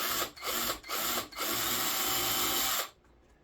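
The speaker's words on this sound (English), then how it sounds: "Now we're going to open these up a little bit more so we can countersink the screws that are going to go in there." A power drill bores countersink holes for pickguard screws on an SG-style guitar body, a steady whirring drone in three short bursts with brief pauses, then cutting off abruptly.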